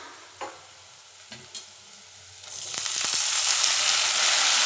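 Tomatoes hit a hot pan for chicken gravy. A few soft knocks come first, then a loud sizzle swells up and holds steady, with no voice.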